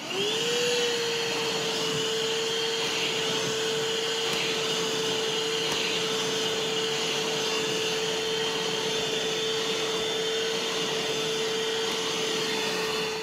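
A Milwaukee M12 vacuum runs with its nozzle attached, a close, steady whining hum with a constant pitch and no pauses, heard alone without speech.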